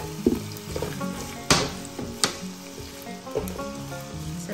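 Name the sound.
garlic and onion sizzling in pan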